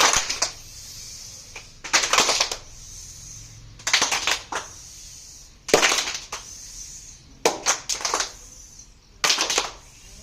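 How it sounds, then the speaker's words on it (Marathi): A group performs a rocket clap together: sharp bursts of many hands clapping in unison, each short flurry separated by quiet gaps, repeating about seven times at an uneven pace. "आता आपण रॉकेट टाळी घेऊया."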